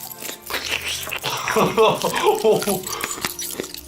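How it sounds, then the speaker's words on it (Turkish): Loud, crisp crunching from someone chewing up close, with a voice talking over the bites. "O adam bir de direkt komple hepsini yiyor. Böyle çatır çatır yiyor."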